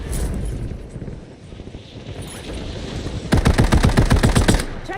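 Loud, rapid machine gun fire from the Black Ops 7 video game, a sustained burst in the last couple of seconds after a rumbling stretch of game ambience.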